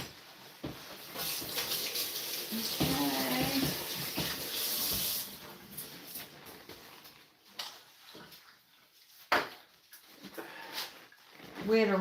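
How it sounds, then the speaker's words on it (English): Tap water runs over fish as it is rinsed in a home kitchen before frying, a broadband splashing hiss through the first five seconds, then scattered splashes and clatter with voices talking at intervals. "I'll wash it real quick here. This just needs a good quick rinse."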